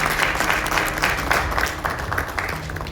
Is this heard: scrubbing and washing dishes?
no